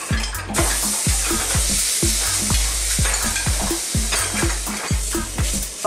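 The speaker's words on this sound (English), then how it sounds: "I'm going to cook this for just 2 to 3 minutes on each side." Beef steak sears loudly in a hot pan, a steady bright sizzle broken by regular thumping stirs or scrapes roughly every half second, close and continuous with no talking.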